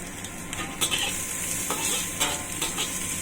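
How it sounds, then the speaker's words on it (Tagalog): Squid frying in a pan with sautéed aromatics for adobong pusit, a steady close sizzle with stirring scrapes and a few louder bursts. "fry lang natin yan until mag golden brown yung mga ingredients natin"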